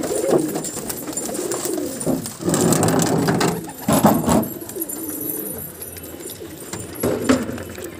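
Fantail pigeons coo while eating grain from a tray, repeated throaty coos and fluttery bursts rising and falling, close and fairly loud, with no talking.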